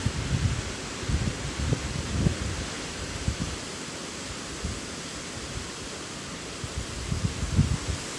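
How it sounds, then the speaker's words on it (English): Strong wind gusts through the trees in the woods, a broad rushing roar that swells and eases with rustling leaves and low buffeting bursts at the start and end. "it's fucking windy"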